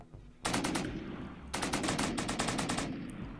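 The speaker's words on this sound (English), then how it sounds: "These cannons are absolutely phenomenal." Cannons firing in the RimWorld video game, two long bursts of rapid, loud repeated shots like machine-gun fire, separated by a short gap.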